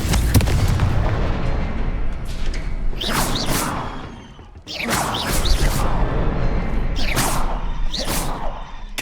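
Confringo blasting spell explosions from the Hogwarts Legacy video game: about four loud, fiery bursts with whooshing tails go off in quick succession over a constant rumbling game backdrop.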